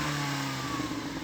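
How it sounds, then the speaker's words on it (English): An oldest-generation BMW M3 engine holds a steady, loud mechanical drone nearby, a sustained rev with a smooth tone and no voices over it. "So we're going to rev up these cars' engines and see what they sound like."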